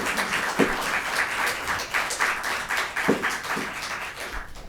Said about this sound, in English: We're going to ask the audience to hold all applause during any type of public comment.